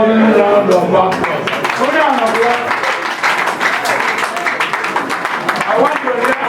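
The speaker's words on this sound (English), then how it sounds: "Can we give the Honourable Member a round of applause?" Constituents at a community gathering burst into dense, sustained applause for their legislator, a thick wash of clapping that runs the whole stretch with voices mixed in.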